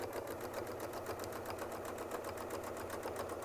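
An embroidery sewing machine sews out a medallion with a fast, even rhythmic needle chatter, continuous and close, with no voices over it.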